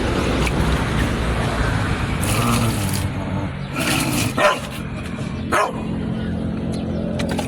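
A dog barks a few times at a distance, sharp yaps standing out over steady traffic noise and background hubbub.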